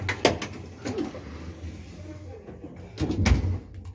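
A mirrored door in Vienna is pushed open with a few thuds and a rolling rumble amid muffled indoor background noise.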